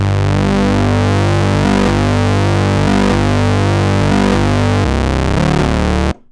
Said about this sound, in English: So this runs feedback, and it is extremely awesome and unpredictable, and creates some extremely natural and organic distortion